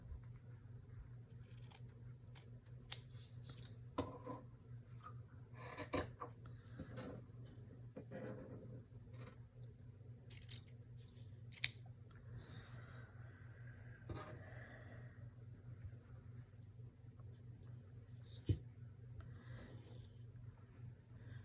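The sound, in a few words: trimming excess fabric with scissors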